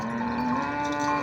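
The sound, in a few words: cow mooing at livestock market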